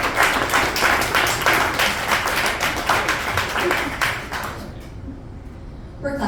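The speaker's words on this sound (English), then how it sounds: "let's give her a round of applause too." Audience at an Earth Day arts panel discussion clapping steadily for several seconds, a dense patter of many hands that fades out near the end.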